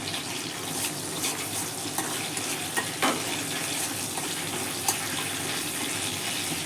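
Nigella seeds dropped into hot oil in a pan crackle and sizzle steadily alongside cardamom, with a few small pops and clicks over a continuous frying hiss.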